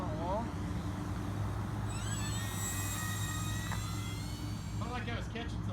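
A 1.2 m Horizon Hobby RC P-51D model airplane with a 13x6.5 prop makes a low pass at night, its whining motor rising and sweeping in pitch over a constant noisy background.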